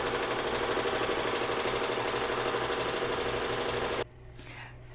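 Embroidery-style sewing machine running a hot pink placement stitch for an appliqué, a steady dense mechanical whir that stops abruptly near the end, leaving a quiet room.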